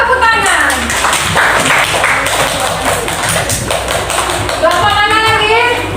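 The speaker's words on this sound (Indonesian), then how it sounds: "Tepuk tangan." A group of people in a classroom training session claps hands together in a quick burst of overlapping claps, close and loud, with voices talking over it.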